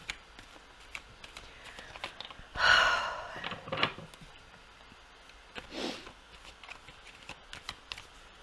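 Tarot cards being shuffled by hand during a reading, heard as a few close, papery riffling bursts, the loudest near the start. Quiet handling noises and soft breaths fill the gaps between bursts.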